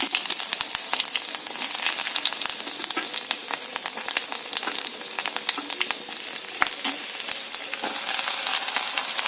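Ginger, garlic, green chili and curry leaves fry in hot oil after the mustard seeds have popped, giving a steady, close sizzle with sharp crackles and no talk.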